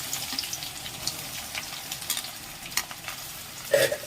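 Onions sizzling in a pan over low heat for prawn curry, giving a soft, steady hiss with light stirring scrapes and a brief louder burst near the end.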